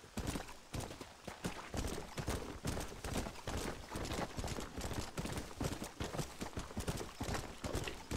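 Horse hooves clip-clop in a steady running rhythm in the video game Red Dead Redemption, close and continuous throughout, with no talking over them.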